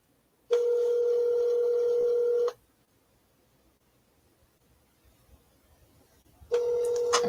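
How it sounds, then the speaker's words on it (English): Outgoing telephone call ringback tone: a steady electronic ring lasting about two seconds, a quiet pause of several seconds, then the next ring starting, with no talking. "I like to give it like 5 rings"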